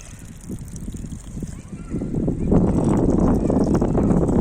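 Water is poured over young grafted plum seedlings at the foot of a wall, splashing and sloshing softly at first, then growing into a fuller, steady gush.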